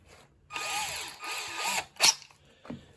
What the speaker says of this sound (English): And we'll drill a hole here.